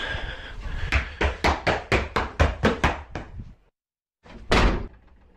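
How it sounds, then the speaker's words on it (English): A door is rapidly pounded with about a dozen loud, evenly spaced knocks that speed up and grow louder. After a brief silence, one heavy slam shuts it with a booming thud. "the door slams shut in front of his face"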